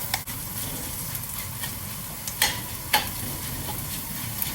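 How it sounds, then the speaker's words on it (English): Close sizzling of mushrooms stir-frying in a hot pan with a few scattered sharp pops and crackles over the steady frying hiss, and stirring sounds throughout. "When they're popping, you can hear popping sound."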